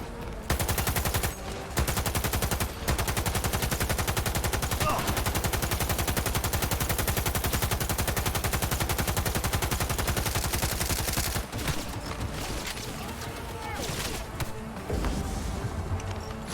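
Sustained automatic gunfire in the video game Cyberpunk 2077, loud rapid machine-gun bursts hammering almost nonstop with a few short breaks, and shouting voices mixed in.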